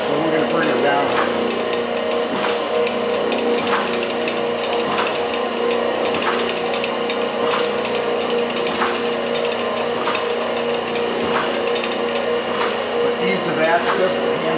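Manual down feed lever on an Abrasive Machine Co. Hydrabrasive 12 x 24 surface grinder lowering the head, a steady mechanical ratcheting clatter with faint regular clicks throughout, close by, with someone talking over it.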